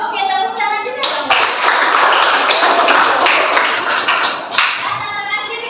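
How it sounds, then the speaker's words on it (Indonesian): A classroom of children claps hands together during a digestive-system lesson, a sudden burst of loud, dense clapping that continues steadily, with some voices mixed in. "tepuk tangan juga dong"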